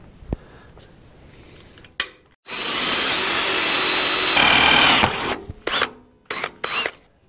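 A power drill bores into the oil cooler side of a Caterpillar D4 bulldozer radiator, a loud steady whine lasting a few seconds, preceded by clicks and followed by short bursts and scrapes.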